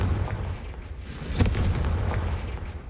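A Confringo blast spell explodes in the Hogwarts Legacy game, a single sharp boom standing out above a dense, rumbling wash of game noise and music.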